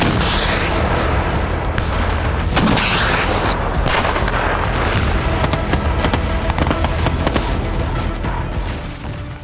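Dense, continuous barrage of explosive booms and cracks from heavy Russian artillery shelling in the Ukraine war, loud and sustained with overlapping blasts throughout and no voices.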